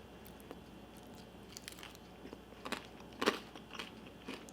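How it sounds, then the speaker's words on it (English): Crispy fried crab rangoon dipped in sauce is bitten into, giving a few close, crackly crunches, one sharp and loud, followed by softer chewing in a quiet room. "Let's do a crunch test."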